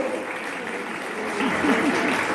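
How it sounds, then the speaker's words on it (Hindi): Audience clapping at a Republic Day poetry recital, a steady broad wash of applause that swells louder in the second half, with some faint voices mixed in. "हमारे भाई लोग ताली बजाइए, जोर से बजाइए।"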